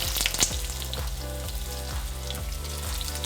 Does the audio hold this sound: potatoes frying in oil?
yes